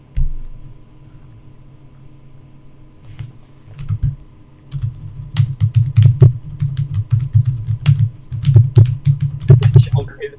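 Soft, rapid typing on a gel computer keyboard in uneven bursts, muffled and close, with a steady low hum underneath and a brief pause partway through.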